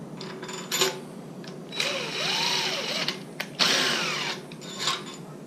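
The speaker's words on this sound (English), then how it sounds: "Pretty much just hit it with a little wheel on the air tool." Small wheel on an air tool chasing engine head bolt threads in a garage build of a 240SX S13 with a 5.3 LS: a whirring, spinning pneumatic tool revving up in several short bursts with faint metallic scraping between them, fairly close.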